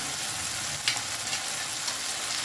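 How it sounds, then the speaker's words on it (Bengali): Spices with salt and turmeric fry in oil for a lote fish curry, giving a steady close sizzle with a few soft scrapes from stirring. "খুব ভালো করে মশলাটা বেশ মিনিট খানে ধরে আমি কষিয়ে নেব"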